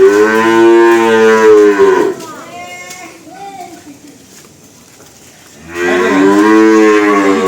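Cattle at a cow farm give two long, loud, close moos, one at the start and one at the end, with quieter lowing and ambient noise between them.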